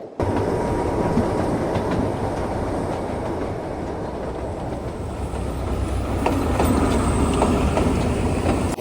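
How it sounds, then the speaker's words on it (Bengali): A narrow-gauge train winds along a high mountain railway in Bulgaria, a steady heavy rumble of wheels on track with faint clicking joints heard from inside the carriage, growing slightly louder toward the end. "বুলগেরিয়ার প্রায় ভুলে যেতে বসে আছে ন্যারো গজ ট্রেন, সেটাতে উঠেছি"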